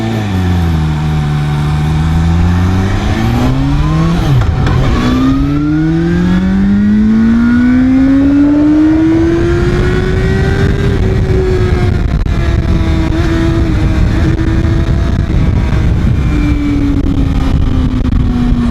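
A ZXMOTO 500F Classic inline-four motorcycle engine revs up and down, its pitch sweeping high, dropping, then climbing and holding a smooth sustained whine, loud and close with no talk.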